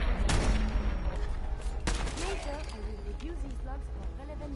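Laser rifle fire in Fallout 4, with two sharp loud shots ringing out near the start and a few seconds later, followed by a voice speaking over the battle noise.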